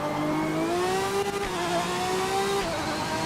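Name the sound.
car engine revving in Project Motor Racing video game, Aston Martin DB9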